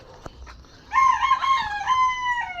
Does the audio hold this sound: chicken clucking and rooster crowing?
yes